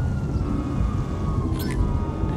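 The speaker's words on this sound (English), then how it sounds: "I hear them sirens." Police sirens in GTA 5 wail faintly in the background over a steady, dense game soundscape, with a brief higher chirp near the end.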